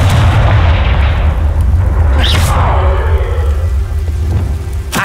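A Confringo fire spell is cast in the Hogwarts Legacy video game: a sharp fiery blast bursts out over a rumbling, rain-like background roar, followed by crackling decay.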